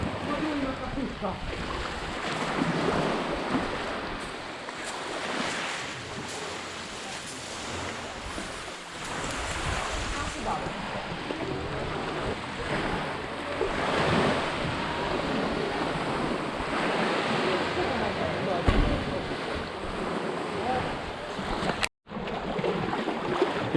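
Waves washing onto a beach at Cavtat, Croatia, a continuous broadband surf wash with gentle surges, wind buffeting the microphone and a brief dropout near the end.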